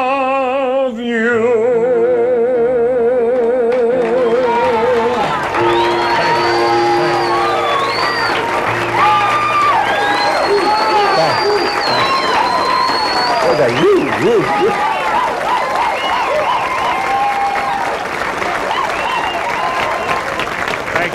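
Party audience cheering and applauding after a song, with whoops and loud crowd noise over fading music and voices throughout, dense and continuous for the full stretch.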